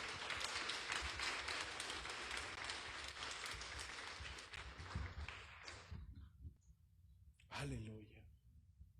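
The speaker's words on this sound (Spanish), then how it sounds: "Dale palmas, amado." A church congregation claps hands during a Spanish-language worship service, a dense sustained roar of applause that fades out after about six seconds, followed by a short voice.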